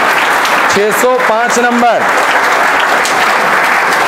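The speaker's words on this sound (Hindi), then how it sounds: "जोरदार तालियों से स्वागत कीजिएगा बेटा।" Applause from students and guests at a coaching institute prize distribution fills the room continuously, with a brief spoken announcement over the clapping.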